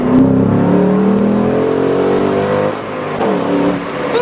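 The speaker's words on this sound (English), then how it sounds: "get her in second gear, and see what she can do" A Ford Mustang GT pulls hard in second gear, its V8 note climbing steadily in pitch as revs rise, loud and close from inside the car, then briefly dipping before building again.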